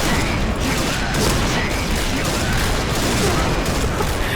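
Barrett sniper rifle fire in Point Blank mixed into a dense, loud barrage of shots and mechanical clatter that runs without a break.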